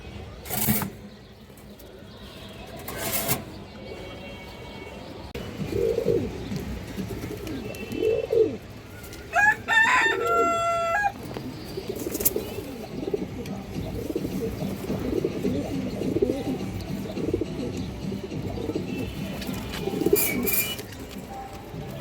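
Pigeons at a Bangladeshi pigeon stall, including female birds of the Palla line, coo in repeated soft rounded calls close by, steady across the whole stretch with a brief higher chirp partway and faint background noise.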